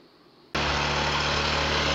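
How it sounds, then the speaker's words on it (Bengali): A motorcycle engine catches after a cold start near the Digha coast and runs loud and steady right after a short quiet moment, with a constant close idle drone. "বাইকে আমার কোল্ড স্টার্ট দেওয়া হয়ে গেছে"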